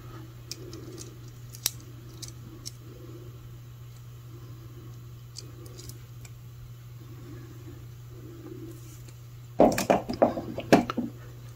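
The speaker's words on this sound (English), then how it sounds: "take my crimping pliers. And carefully, without breaking my little rondelle bead, tuck in the little burrs" Crimping pliers press in the wire ends beside a small rondelle bead while making jewellery, giving faint metallic ticks over a steady low hum, then a louder burst of clicking and rustling near the end.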